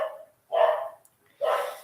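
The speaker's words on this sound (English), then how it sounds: "dogs are barking." Dogs bark in two short, sharp bursts separated by a brief pause, moderately close and heard alone with no voices.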